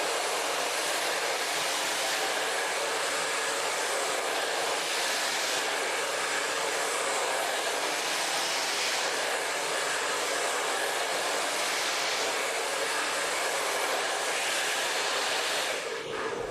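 A blow dryer dries curled hair wound on a brush, roaring steadily and loudly from start to finish with a broad airy hiss and no pauses.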